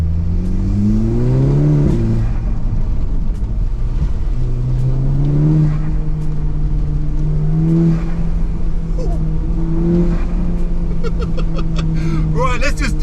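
Stage 2 tuned Audi TTS engine revving hard, the pitch climbing through several gear changes in a loud, close, rising whine and roar, with speech partly under it.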